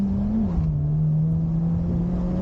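A 2020 Honda Civic Type R pulls hard under smooth throttle on the Englishtown Raceway track, its engine a steady, loud, close drone that dips briefly then holds a rising, continuous pitch.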